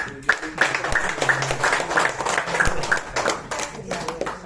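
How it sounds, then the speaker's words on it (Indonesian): An audience at a marketing plan presentation claps to welcome a speaker, a dense patter of hands continuing beneath a voice that talks over it. "Mari kita beri tepuk tangan dan kita sambut"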